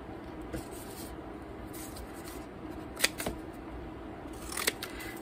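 Scissors snipping leftover paper scraps, a few quiet crisp cuts scattered through a faint background with light rustling, no talking.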